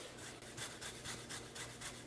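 Fresh ginger being rubbed back and forth on a very sharp microplane grater, a close, soft rasping stroke repeated in a steady rhythm of about four passes per second.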